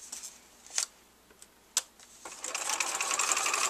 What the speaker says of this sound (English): I'm just sewing right down that line